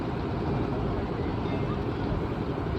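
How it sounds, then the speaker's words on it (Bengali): A passenger launch boat drones steadily on the Ganges at Varanasi near Kedar Ghat, with a broad continuous rumble of engine, water and wind close by. "আবার একটা লঞ্চ আসছে"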